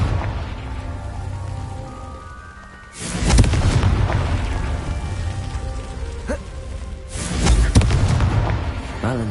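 A Confringo fire spell in Hogwarts Legacy sets off two loud, deep explosions several seconds apart, each a sharp blast trailing into a rumbling, crackling roar against steady game background noise.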